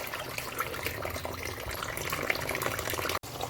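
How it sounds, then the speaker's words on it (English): Tap water runs steadily while beef and pig's tail are rinsed in a sink, a continuous splashing flow with small shifting gurgles, close by and unbroken except for a short dropout near the end. "I'm gonna rinse it off as much as possible to reduce the rawness"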